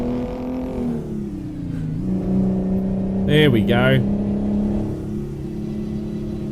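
A Mack Superliner truck with a Detroit Diesel engine in American Truck Simulator revs hard and steadily with a droning whine under a trailer load, while someone talks over it.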